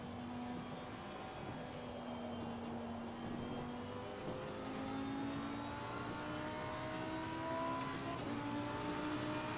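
A GT race car engine in Assetto Corsa Competizione at Monza revs through the gears with rising tonal whines and shifts, a steady continuous drone heard from the cockpit with no talking.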